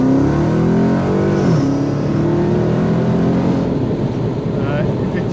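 A 720-horsepower Dodge Challenger engine roars steadily during a rolling-start acceleration, pitch rising and then falling at a gear change, loud and close.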